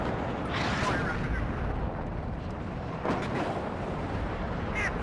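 Artillery fire and explosions in the Cold War strategy game WARNO, a dense continuous roar of distant booms and rumbling blasts with a few sharper reports standing out.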